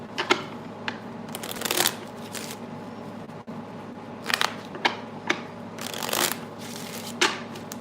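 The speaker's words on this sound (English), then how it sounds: "I'm going to pull a playing card for that" Playing cards are shuffled and handled for a tarot reading, several crisp riffling bursts and sharp snaps close by, separated by quieter pauses, with no voice.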